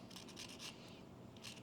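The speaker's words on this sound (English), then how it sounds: "So just start sanding" Sandpaper rubs the edges of a resin lightstick insert in short, quiet rasping strokes, several scratchy passes in quick rhythm with a pause before the last one.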